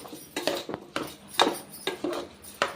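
Uncooked rice being stirred in a pot while making tomato rice, a utensil scraping and clinking against the metal in a series of sharp, irregular strokes, close and fairly loud.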